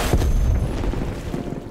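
A nuclear strike goes off in the Black Ops Cold War shooter, heard as a loud, deep booming rumble with heavy low-end that rolls and slowly fades over about two seconds, with no voices.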